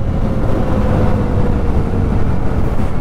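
A 2024 Jawa 42 motorcycle engine drones steadily while riding, a low continuous hum mixed with wind rush and no voices.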